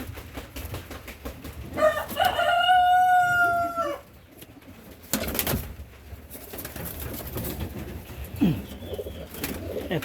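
Bombai breed pigeons coo and call in short, close bursts, one long throaty coo prominent early, then quieter scattered calls amid handling rustles and background noise.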